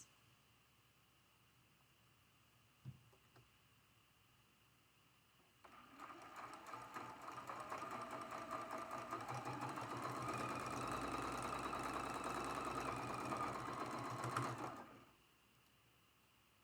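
A sewing machine running a quilt block seam starts after a short quiet pause, whirring steadily for about nine seconds with a rapid needle chatter, then stops; close and alone.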